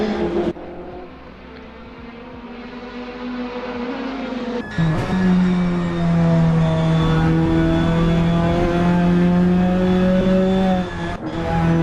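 Race car engines in a racing video game, a Praga R1 and Ginetta GT5 on the full VIR course, loud steady droning with rising and shifting engine tones, a brief dip then a sharp jump in pitch, continuous and close.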